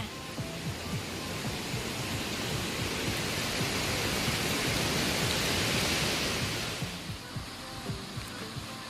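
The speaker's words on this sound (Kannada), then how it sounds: "ಇದು ನಮ್ಮ ಮನೆ ಮುಂದಿರುವ ತೋಡು ಇಲ್ಲಿ ಕೂಡ ಅಷ್ಟೇ ತುಂಬಾ ನೀರು ಬರ್ತದೆ" Steady rushing of water flowing in a stream in front of a house, continuous and fairly loud, swelling slightly before easing off near the end, with no voices.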